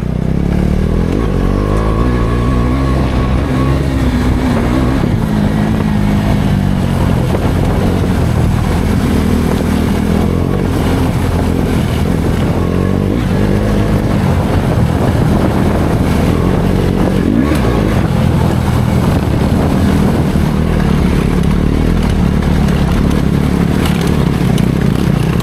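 A 390 ADV motorcycle ridden at a steady pace along a long, straight, hard-packed gravel road. Its loud engine drones continuously and swells and eases with the throttle, with no talk.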